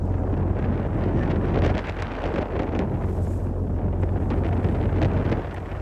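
Strong wind roars steadily into the microphone, a dense low rumble with rustling buffeting throughout and no voices.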